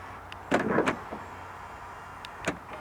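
Several soft mechanical clicks and clunks, close and distinct, as the flush door handles of a 2022 Kia EV6 pop out, spaced apart over a quiet background.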